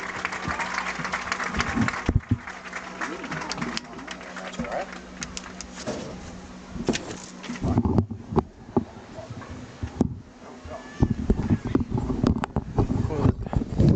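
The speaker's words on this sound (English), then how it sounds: "let's give one more big round of applause for all of our homecoming attendees this evening." Crowd at a high school homecoming football game applauds outdoors, a distant, wind-buffeted spread of clapping and cheering mixed with voices and stadium noise.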